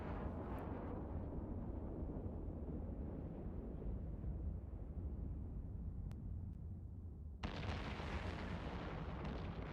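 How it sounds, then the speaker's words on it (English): Missiles bursting apart as a defensive tower shoots them down in a video game: a dense, continuous roar of explosive rumble, steady and loud throughout, with a brighter crackling surge near the end and no voices. "The tower is killing my missiles."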